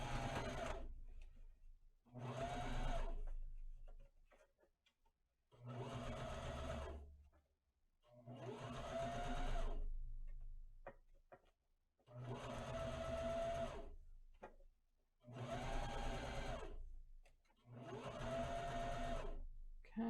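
Sewing machine top stitching a fabric mask in repeated bursts of about two seconds each, separated by short pauses, close and steady with no talk.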